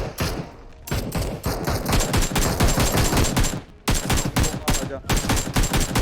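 Dense, loud automatic gunfire from the PUBG Mobile video game rattles almost continuously in rapid bursts, broken by two brief pauses.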